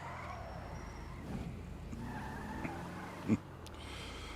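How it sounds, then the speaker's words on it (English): A candy apple red 1977 Aston Martin driving in a video game, a steady engine drone with tire noise and a brief sharp skid or bump near the end, fairly quiet and without talk. "A 1977 Aston Martin."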